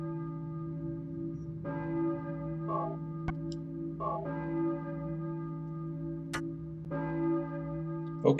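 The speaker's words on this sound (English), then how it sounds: "Okay, so church bells." Church bells toll repeatedly in a slow, uneven sequence in the video game Silent Hill, each strike ringing and lingering, with a few faint clicks between them.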